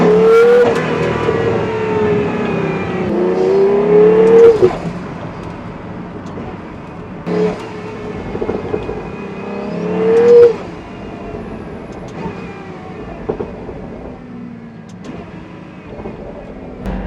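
Twin-turbo Mercedes V12 in a Pagani Utopia, revving in a few sharp bursts that rise and fall, loud and close, with quieter idle stretches and occasional talk between.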